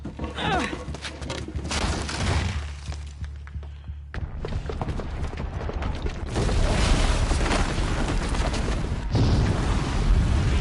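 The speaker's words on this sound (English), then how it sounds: "Classic movie jump explosion." A Horizon Zero Dawn game explosion set off by a booby-trapped bomb, heard as a loud, sustained rumbling blast with thuds and crackling debris that swells again toward the end.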